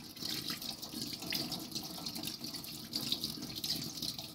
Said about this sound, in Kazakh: Лимонды да жақсылап жуып аламыз.